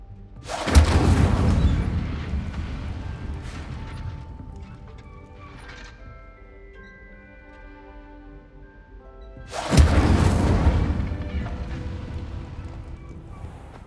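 The Incendio fire spell is cast twice in the video game Hogwarts Legacy, each one a loud, sudden whooshing burst that rumbles and fades over a few seconds, with a quieter stretch of ringing tones between them.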